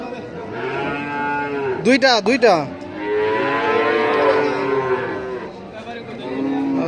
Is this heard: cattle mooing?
yes